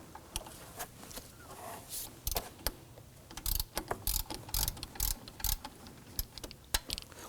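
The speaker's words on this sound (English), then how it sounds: "I'm going to go ahead and use a 12mm socket, loosen the tensioner nut right here." A ratchet with a 12mm socket loosens the AC belt tensioner nut on a 2005-2009 Subaru Legacy 2.5L H4, clicking in irregular bursts of rapid ratcheting close up, with no speech.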